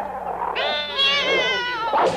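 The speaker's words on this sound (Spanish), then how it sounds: "quiero que entrene a mi gatita" A kitten meows once, a loud, close, drawn-out wavering cry lasting about a second and a half, followed by a short sharp squeak at the end.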